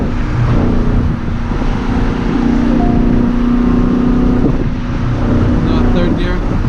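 A car accelerates hard on a pull, with a loud, sustained roar of engine, road and wind noise that stays steady and close throughout.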